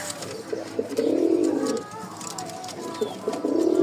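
Pigeons cooing nearby in repeated low, throaty bursts, one long coo followed by a pause and another, with faint chirps in the background.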